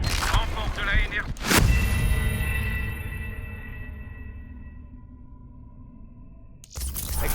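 A sudden loud blast goes off in a Call of Duty Black Ops 3 co-op commando mission, cutting through busy battle noise and radio voices, then ringing out in a long fading tail before gunfire resumes.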